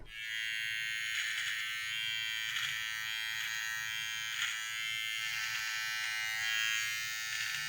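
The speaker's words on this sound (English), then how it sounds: "For detailing and cleaning up strays, use your trimmer without a guide comb." A Wahl beard trimmer with no guide comb cleans up the edges of a beard, a constant close electric buzz with soft rhythmic swells as the blades pass over the hair, heard alone for several seconds.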